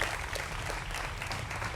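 A studio audience claps steadily and continuously to welcome the panel guests on a Hindi television election debate show, with no one speaking over it.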